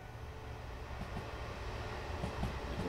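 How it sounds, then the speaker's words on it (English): An old-school electric multiple unit with sideways seating runs along a suburban and countryside route in Train Simulator Classic, giving a steady rolling rumble with soft periodic clicks of wheels over rail joints. "You've got this old school DMU train, EMU train, electric multiple unit with this sideways seating"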